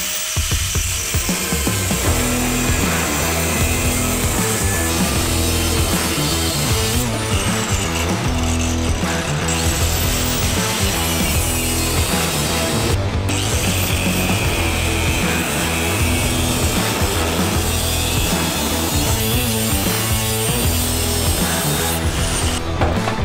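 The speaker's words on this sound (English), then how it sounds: "cutoff wheel don't care where the heat affected zone is" Abrasive cutoff wheel grinding through steel roll cage tubing on a turbo Camaro, a loud, continuous high-pitched whine and screech running nearly unbroken, close up, with no talking.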